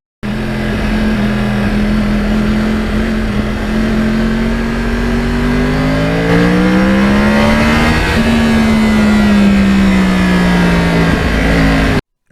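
A Yamaha R1 crossplane sport motorcycle held at wide-open throttle, a loud, close, continuous engine howl with its pitch climbing and dipping over about twelve seconds before cutting off abruptly, with no voices over it.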